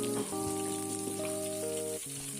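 Pork hip meat with fatty sections stir-fried in a pan over high heat, giving a steady close sizzle throughout, with sustained tonal music playing over it.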